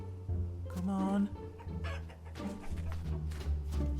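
A chicken clucks in the video game Vintage Story, with a few short bursts near the start and middle. Someone talks over it throughout, and game sounds sit underneath.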